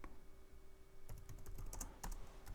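Keys are pressed on a computer keyboard, including the F4 key, while working in Excel. The soft plastic clicks come in a quick, irregular cluster, close but faint, against a quiet room hum.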